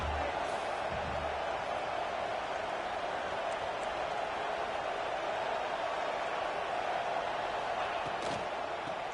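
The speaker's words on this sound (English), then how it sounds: "And here comes the noise. This crowd is trying to inspire this defense to make a big red zone stop." A big football stadium crowd roars steadily during a red zone defensive stand, a dense wall of distant cheering and noise that holds loud and constant throughout.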